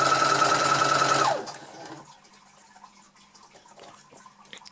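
A Brother FS40 sewing machine runs fast and loud with a steady whir while reverse stitching, then stops abruptly, leaving quiet handling sounds and faint clicks.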